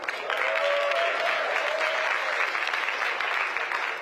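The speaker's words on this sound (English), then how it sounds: "Give them a great round of applause." Audience applause inside a Baptist church at an evening political forum, steady and moderately loud for about four seconds, with a few faint voices mixed in.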